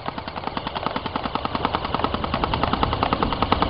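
A Dboys AK-74 airsoft rifle with folding stock fires a steady full-auto burst of rapid, evenly spaced shots at a hi-fi disc target, crisp and close, with no talking.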